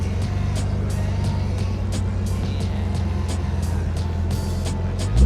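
The RB-swapped engine of a 1984 Nissan Skyline R30 RS-Turbo Iron Mask runs close by with a steady low rumbling idle, joined by several sharp clicks or ticks, and no voices.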